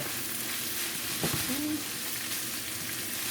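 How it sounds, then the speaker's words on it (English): Rice with ackee and saltfish sizzles and crackles steadily as it is stir-fried in a pan, with a soft scrape of stirring midway through, close and fairly quiet. "we're going to stir fry it for a couple more minutes"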